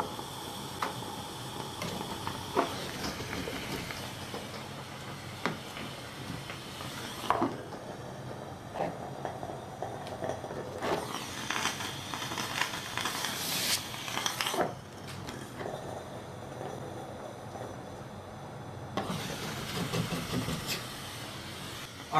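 A Wagner wallpaper steamer runs with a steady hissing, rushing noise that swells and drops in stretches, likely while wallpaper and glue are being stripped with a putty knife.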